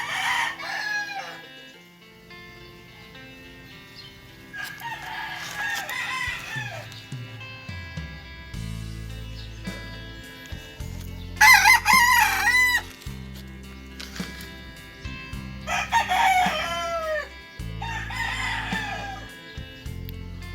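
Young roosters (stags) just harvested and placed in a hardening pen crow in loud bursts, one after another, with clucking and soft fowl calls in between, set against steady low background noise.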